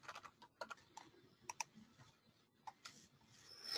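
Typing on a computer keyboard while entering a magazine title into a library search: a quiet, irregular run of close key clicks with short pauses, alone without speech.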